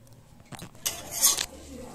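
Kasuri methi, dried fenugreek leaves, being stirred in a pan on the stove: a few short scraping, rustling strokes of a utensil against metal, close and fairly quiet, with a brief clink, and no talking.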